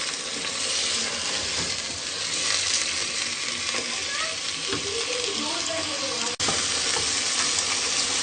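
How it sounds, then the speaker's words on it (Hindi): Chicken korma sizzles steadily in a pan over low heat, a dense, even frying hiss that runs close and unbroken throughout. "इस तरीके से स्लो स्पीड पे हम इसको फ्राई करते रहेंगे"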